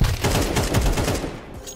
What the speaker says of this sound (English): It's a flashbang on my body.